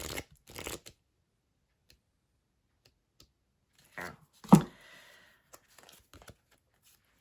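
A deck of angel cards is shuffled in short bursts, soft papery riffles and taps near the microphone, with a louder flurry midway and quiet gaps between.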